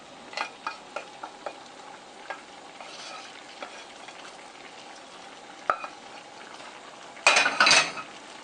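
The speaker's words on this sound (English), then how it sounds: "I'm gonna toss in my orzo and just let it all mix together." Orzo being tossed and stirred into shrimp with lemon juice in a pan for Shrimp Mykonos: close scraping and clinking utensil strokes in a light rhythm, a soft sizzle beneath, and a louder burst of stirring near the end.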